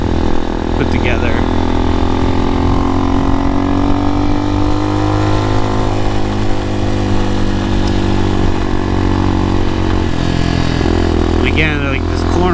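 An Amazon X-Pro motorcycle engine drones steadily while climbing a hill, its pitch slowly rising and falling through the ride, with someone talking over it and wind noise throughout.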